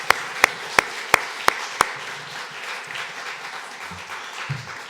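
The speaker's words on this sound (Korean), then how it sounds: "박수로 하나님께 영광을 돌리겠습니다" A congregation at a Sunday church service gives a short burst of sharp claps, about six in quick succession, then fading into quiet room noise with faint murmuring.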